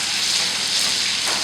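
Onions sizzle steadily in hot fat in a pan, a close, dense frying hiss that holds at an even level throughout with no talking.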